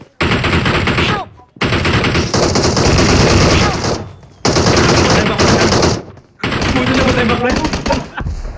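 Rapid automatic gunfire from a video game played with friends, in long loud bursts separated by brief pauses, with voices talking over the shooting.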